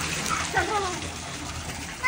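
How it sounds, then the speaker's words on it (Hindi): Children splashing water in a small filling pool or tub, with loose splashes and trickling water running throughout, a voice and adult speech mixed in close by. "हाँ जी बिलाल, मुंह पे नहीं पानी फेंकना।"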